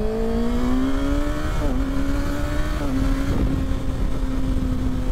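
A 2024 Kawasaki ZX-6R motorcycle engine revs loudly on the road, pitch climbing steadily through the gears with brief dips at each shift, close and continuous over wind rush.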